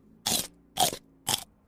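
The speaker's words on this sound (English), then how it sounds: "What you hear is my teeth crushing the tortellini" Three crisp, loud bites crunching through fried prosciutto tortellini, each a short sharp burst spaced about half a second apart, close to the ear with silence between them.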